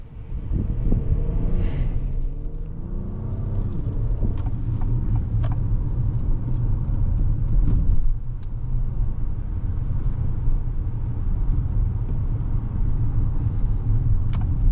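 A 2025 Acura MDX A-Spec drives under power, heard as a steady, low engine and road rumble from inside the cabin. Faint rising tones come early, then a constant drone follows with no talking.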